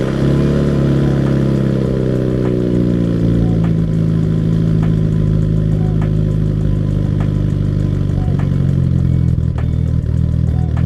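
A Mitsubishi Lancer Evolution VIII engine with stock exhaust idles steadily with a deep, low rumble and occasional light revs, running continuously close by with no voices.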